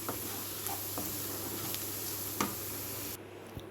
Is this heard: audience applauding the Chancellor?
no